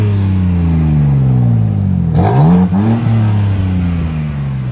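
A supercar with its exhaust opened up in Sports Plus mode idles with a deep, loud burble, then blips sharply in one quick rev before dropping back to a steady rumble, close and with no talk.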